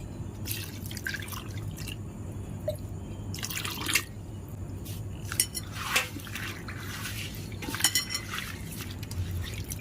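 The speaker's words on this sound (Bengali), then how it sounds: "এখন আমি জল দিয়ে খুব ভালো করে এই উপকরণগুলো ধুয়ে নেব।" Water splashing and dripping as turmeric, neem and tulsi leaves are rinsed, with irregular drips and a few soft clinks over a steady low background hum.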